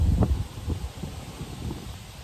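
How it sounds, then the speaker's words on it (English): Outdoor wind buffets the microphone in low rumbling gusts, strongest at the start and then settling into a steadier rough blowing. "this video is getting windy"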